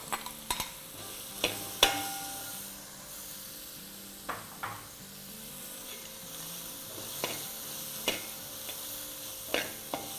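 Beans and carrots sautéing for prawn pulao, a soft sizzle punctuated by repeated wooden scrapes and clacks of stirring at irregular intervals, close and fairly quiet.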